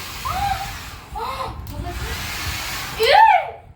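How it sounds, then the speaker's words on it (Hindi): A hair dryer blowing warm air onto feet indoors, a continuous close rushing whoosh that pauses briefly, with voices speaking over it. "ड्रायर से पैर सेके जा रहे हैं।"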